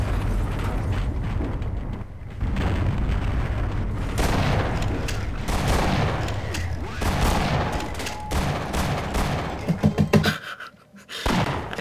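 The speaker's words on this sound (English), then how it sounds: "Who is shooting me?" Gunfire in the Half-Life video game, dense bursts and booming shots filling the scene, loud and continuous with brief gaps near the end.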